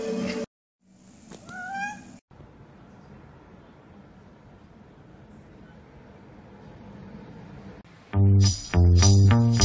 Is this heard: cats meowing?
yes